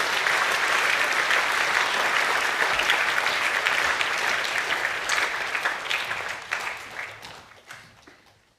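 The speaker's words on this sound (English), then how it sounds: "Please affirm the Year 11 Academic A+ winners with a round of applause." A school awards assembly audience applauds Year 11 academic winners with dense, sustained clapping that gradually thins and fades toward the end.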